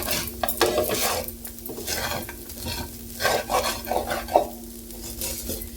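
Kodo millet poha stirred and mixed in a pan with a metal spoon, repeated scraping and clinking against the pan over a soft sizzle, in uneven bursts with short pauses.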